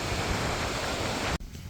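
An Icelandic waterfall roars as a close, loud, dense rush of water, pouring over stones, then cuts off sharply near the end.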